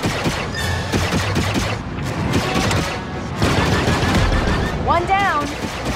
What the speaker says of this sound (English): Turret activated, Kay.